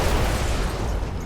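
Fuel pumps blow up after being shot in the mech combat game Brigador, a loud, sustained booming blast that fills the whole moment with dense low rumble.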